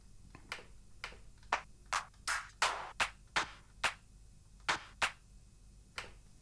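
Clap sample on a Pioneer Toraiz SP-16 sampler in a studio, a dozen sharp, dry hits fired in an uneven pattern, crisp and close with nothing else playing.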